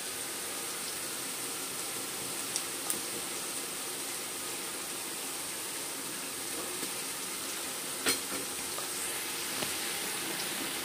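Ginger garlic paste sizzling steadily in oil for chicken biryani, a soft continuous frying hiss with a few faint clicks from the pan, no voices.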